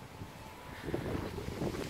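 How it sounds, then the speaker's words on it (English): Steady wind buffeting a microphone outdoors, a low rumbling rush that swells in gusts toward the end, with no voices. "it's getting windy again."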